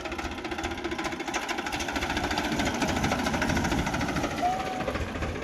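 A tractor engine chugs steadily with a rhythmic knocking beat while the machine sits half submerged in water, loud and continuous with voices faintly mixed in.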